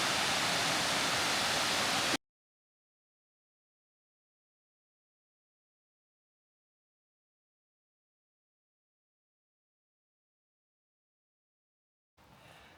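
A woodland waterfall roars as a loud, steady wash of rushing water that cuts off abruptly after about two seconds, leaving long silence before the roar returns briefly at the end.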